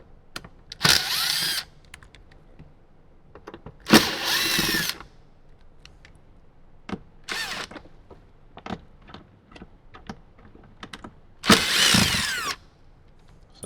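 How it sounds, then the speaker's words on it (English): A cordless power drill backs out three screws from a 2025 Toyota 4Runner interior trim panel, sounding as four short whirring bursts separated by quiet gaps and scattered small clicks and handling noises. "So let's go ahead and get these 3 screws out."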